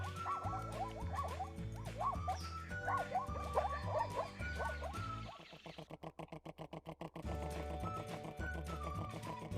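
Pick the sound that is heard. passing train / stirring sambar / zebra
zebra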